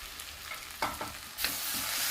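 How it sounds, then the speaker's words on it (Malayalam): Coriander and chili powder frying for a Kerala-style beef curry are stirred in a pan, giving a soft scrape that breaks into a brighter, louder sizzle halfway through. "ഇനി വീണ്ടും ഒന്ന് ഇളക്കി കൊടുക്കാം"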